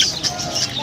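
Cage birds at a bird market, including cockatiels and budgerigars, give several quick high chirps in an irregular rhythm. The calls are fairly close and come over a low background murmur.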